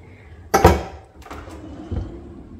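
Flat frying pans are set down into a low kitchen drawer: one sharp metallic clatter, then softer knocks and a dull thud as the drawer settles, close and loud with no talking.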